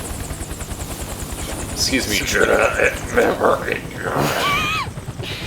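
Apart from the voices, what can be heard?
helicopter in Metal Gear Solid 4 video game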